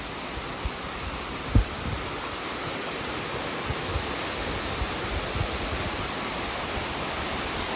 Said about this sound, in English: the waterfalls as we get towards the bottom here